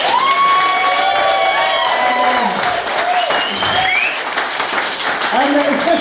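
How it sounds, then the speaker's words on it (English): Audience applause and cheering after the comedy acts at a charity motorcycle rally, steady loud clapping mixed with whoops, high shouts and excited voices from a lively crowd throughout. "All can you have a round of applause for all the acts,"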